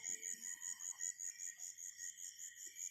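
Frogs call in a steady pulsing chorus at a natural frog-raising pond, rhythmic high trills repeating about three times a second, faint and distant, with no voices.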